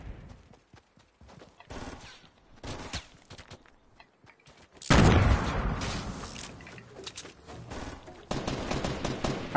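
Fortnite squads match with bursts of automatic rifle fire, short volleys broken by pauses, then a loud sustained barrage of shots and clatter, with no speech.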